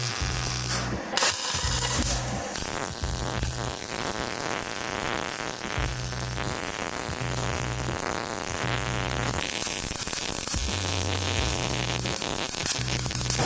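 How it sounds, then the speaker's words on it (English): MIG welding a bracket onto the underside of a 1965 Ford Mustang, a continuous loud crackling buzz with short pauses between bursts, close up, with no talking. "I'm going to weld this sort of on the bottom at a pointed angle so I can get good weld penetration on the front and the back"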